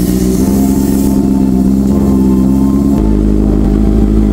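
Honda CB650R four-cylinder motorcycle engine idling steadily after an oil change with Motul 300V, a loud continuous close-up drone with a slight shift in tone partway through.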